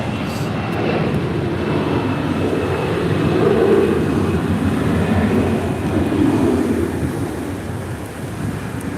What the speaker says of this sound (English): This is American Airlines Flight 1598 departing to Chicago O'Hare on an A321.